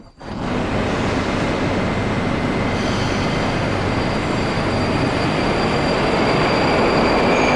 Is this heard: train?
yes